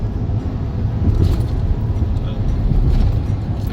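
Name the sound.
cars passing on a city highway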